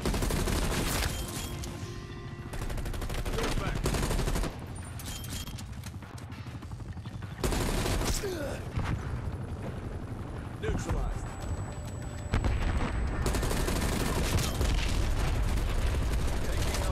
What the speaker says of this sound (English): The sentry gun's what shot at me.